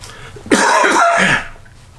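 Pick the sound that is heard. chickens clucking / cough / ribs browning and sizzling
cough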